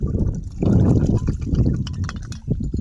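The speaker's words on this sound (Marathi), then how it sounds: "अजिंठा सुपर ही 200 लिटर पाण्यात बाटली मिसळायला चालू आहे." Ajanta Super pesticide is mixed into 200 litres of water for a crop spray, heard as close, continuous sloshing and pouring with gurgles that swell and ease over a few seconds.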